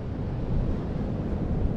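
Strong wind on a beach buffeting the microphone, a continuous low rumbling roar with gusty fluctuations throughout.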